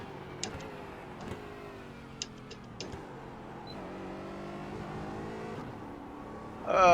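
A GT4 race car engine drones faintly and steadily during a virtual race at Okayama in iRacing, shifting pitch as the throttle changes, with scattered light ticks and a louder rise at the very end.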